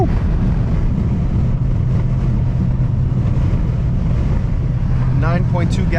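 Steady, loud engine drone from a cammed Jeep SRT while driving, heard from inside the cabin along with road and wind noise, with a short higher-pitched squeak near the end.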